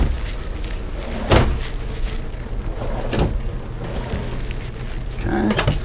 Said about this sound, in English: And so we have the 6 drawers. Again, these are all the soft close.